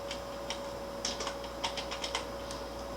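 Light clicks on a computer keyboard as a username is typed, quiet and close, with irregular bursts of keystrokes against a faint electrical hum.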